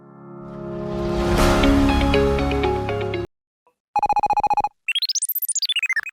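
A swelling chaotic swirl of tones cuts off, then a rapid electronic beeping ring pulses, followed by a warbling sweeping ringtone trill, loud and synthetic.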